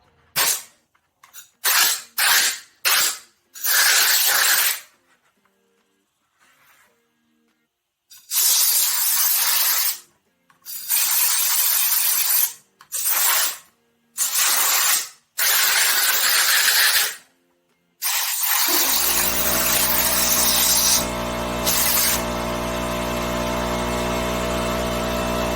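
An air compressor fires off in short, loud hissing spurts during Suzuki Samurai paint prep, then kicks into a sustained droning motor run that keeps going at close range.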